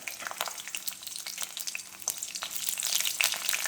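Onion frying in hot oil with green chillies for a vegetable poriyal, a close crackling sizzle with sharp pops and spatters that thickens toward the end, no voices.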